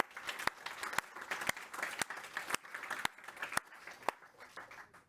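An audience at the Apteco global launch event in May 2024 applauds after a live software demo. The sustained clapping is punctuated by sharp, distinct individual claps, heard from a moderate distance.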